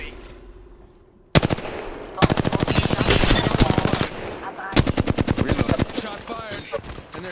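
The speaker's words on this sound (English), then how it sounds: "Shots fired, and they're hitting me." Rapid automatic gunfire in Apex Legends, loud bursts of evenly spaced shots broken by a brief pause, then a second volley of rapid fire close up.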